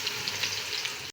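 Onions sizzle and fry steadily in hot oil as they brown for a chicken biryani, a close, continuous crackling hiss with no pauses.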